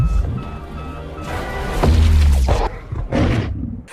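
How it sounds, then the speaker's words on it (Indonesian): A staged explosion in a Godzilla vs Kong film scene, set off on a vehicle over Kong's body: a deep, heavy boom swells and rumbles for about a second, then a second burst follows amid a dense, loud cinematic mix. "Akibat ledakan itu,"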